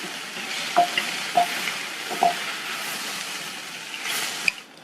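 Grated coconut and finely chopped coriander leaves being stirred into a capsicum stir-fry in a pan, with a steady soft sizzle broken by a few distinct scraping stirs of the spoon.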